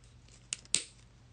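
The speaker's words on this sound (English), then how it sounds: "Trim just like we make jump rings." Two quick, crisp snips cut 21-gauge flat wire for jump rings, close and sharp, the second louder with a short ring-off, in an otherwise quiet room.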